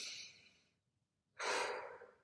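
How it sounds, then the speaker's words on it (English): A slow, deep human breath: a long soft exhale that trails into silence, then a strong, full inhale, close and breathy with no talk. "I think the first thing really is just stop and breathe"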